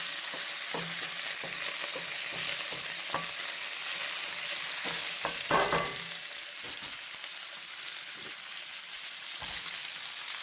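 Bacon frying in a pan inside a mountain cabin, with a steady close sizzle throughout and occasional stirring clinks and scrapes, no voices.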